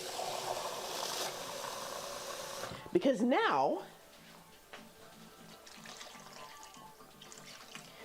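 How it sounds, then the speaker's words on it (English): Water poured into a pan of simmering gravy for liver and onions, a short burst of splashing and gurgling that rises over the sizzle, with someone talking before and after. "I think I will add some extra water in here."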